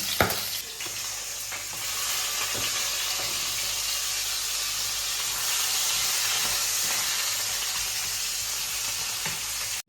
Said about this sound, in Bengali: মাছের মাথাটা ভেজে দিই